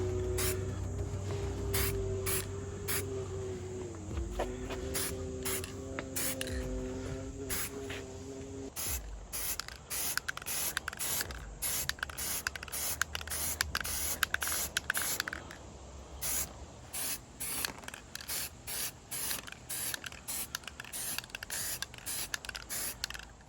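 Short, sharp bursts of aerosol spray priming a 1:12 scale Star Wars FX-7 medical droid model kit, some hissing runs at first, then many rapid repeated puffs, close and fairly quiet.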